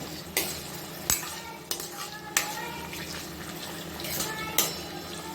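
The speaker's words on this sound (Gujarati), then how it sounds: "અહીંયા છે ને મારા પનીર પણ ફ્રાય થઈ ગયા છે" Paneer cubes frying in a pan over a high flame at home, with sharp clinks of a utensil stirring against the metal several times over a steady low sizzle.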